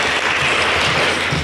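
A brief, loud burst of steady applause from a conference audience for the event organizers at an evening session, thick and continuous across its short length.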